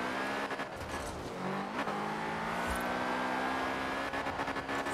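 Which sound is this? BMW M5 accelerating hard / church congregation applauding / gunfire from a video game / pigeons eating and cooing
BMW M5 accelerating hard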